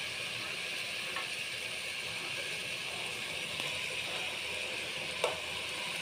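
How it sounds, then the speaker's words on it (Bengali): Vegetables frying in a pan for a leafy greens dish, a steady close sizzle and hiss with a few faint clicks of utensils and no talking. "সবজিগুলো আমি সুন্দর করে ভেজে"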